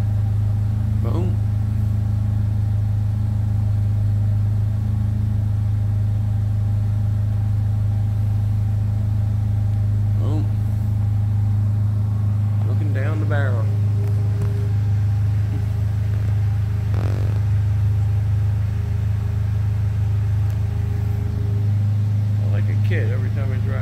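The engine of a custom Batman-themed Slingshot rumbles with a deep, steady, droning hum throughout, with a few brief voices and clicks over it.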